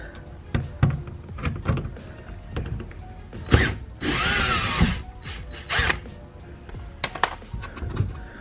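Cordless driver spinning out T30 Torx screws around a panel edge on a Ford Focus RS during a boost hose install, several short whirring bursts with clicks and handling noise between them, one longer burst in the middle.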